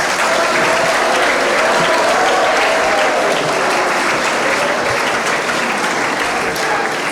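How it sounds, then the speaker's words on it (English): Sustained round of applause from a seminar audience at the close of a negotiation session, steady and dense broadband clapping throughout, with a faint voice murmuring beneath. "Let us all give another big round of applause."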